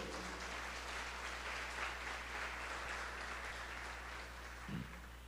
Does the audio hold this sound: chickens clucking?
no